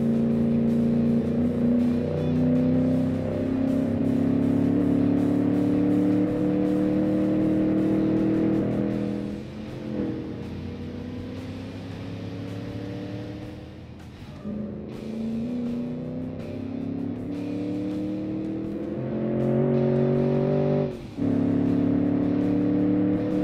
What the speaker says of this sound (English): Thrashing cars in the desert is just one of the best things ever to do with this thing.